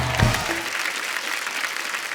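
Studio audience applause on The Kapil Sharma Show, a brief burst of clapping from a crowd, fairly loud and steady after a short opening thump.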